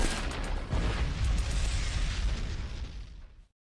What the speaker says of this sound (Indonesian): akan mengakhiri hidupnya dengan meledakkan meriam pada dirinya dan zombie-zombie